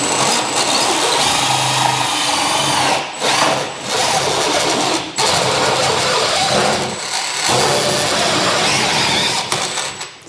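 A power drill with a pilot bit bores through two layers of plasterboard at a ceiling spotlight hole, a loud, steady grinding whine running close by for about ten seconds, broken by a few brief dips.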